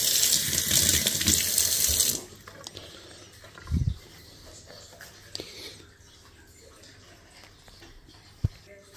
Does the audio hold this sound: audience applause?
no